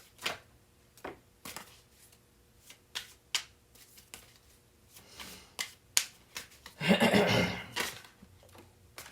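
Tarot cards are shuffled and dealt close up, with a run of quick crisp card slaps and flicks followed by a longer riffle-shuffle burst near the end. No one speaks.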